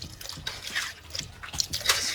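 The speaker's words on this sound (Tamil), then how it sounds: "புளி ஊற போடுறோம்ல" Tamarind dropped into water to soak for an Edappadi-style fish curry, with close, soft splashes and drips in brief, irregular bursts.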